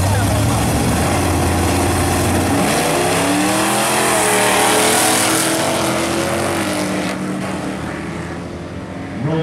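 A Ford Gran Torino race car roars past at a hill climb race in Rivanazzano, its loud engine sustained and swelling then easing as it passes nearby, with no one speaking over it.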